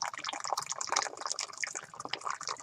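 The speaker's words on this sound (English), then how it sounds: "Put the hot water in there," Hot water pours into a tea steeper, a steady bright splashing and trickling of liquid filling the vessel, close and continuous for a few seconds with no talk over it.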